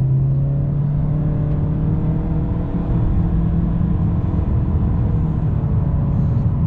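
A 2018 Honda Accord Sport accelerates and shifts, heard as a steady engine drone and road hum from inside the cabin, with no clear break at the gear changes.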